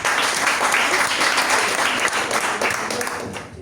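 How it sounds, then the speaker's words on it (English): A dense round of applause fills a Toastmasters club meeting in Dubai, many hands clapping steadily and close for a few seconds before tapering off at the end. "Please give a round of applause to Toastmaster Shafeer."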